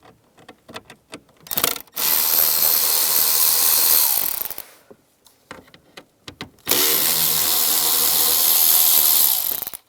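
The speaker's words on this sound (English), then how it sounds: "Then take these 3 screws out. Same T20 socket." Socket ratchet with a T20 bit backing screws out of an interior panel on a 1999-2005 Volkswagen Jetta, heard as two sustained bursts of close, buzzing mechanical whirring separated by brief clicks and handling noise.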